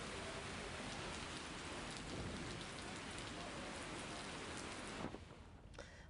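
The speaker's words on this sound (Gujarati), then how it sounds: "સુરત શહેરમાં તો ભારે વરસાદ થયો" Heavy unseasonal rain pours down in the Surat and Navsari area of south Gujarat, a loud, dense and steady roar of drops that eases slightly in the final second.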